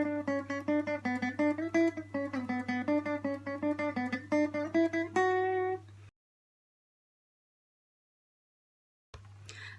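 A guitar plays a song riff, a quick run of picked notes over a steady low hum, close and fairly loud for six seconds, then silence and a brief return of the hum and notes.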